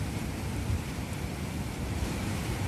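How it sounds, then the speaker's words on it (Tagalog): Rain pours steadily at night, heard from a fourth-floor spot, as a dense, even wash of broadband hiss with no breaks and no voices. "Biglang umulan."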